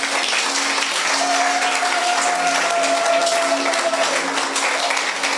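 Sustained applause from a church congregation fills the space steadily and loudly throughout, with a faint held tone running beneath the dense clapping.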